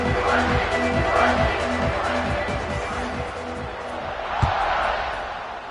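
A stadium crowd swells in a college football video game, a broad and steady roar with a rhythmic chant pulsing through it, a thud near the end, and speech partly over it.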